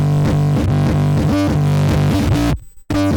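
Heavy distorted 808 bass notes, fuzz pedal and amp, thump and slide in a rhythmic techno pattern, gritty and loud, with a brief dropout near the end before resuming.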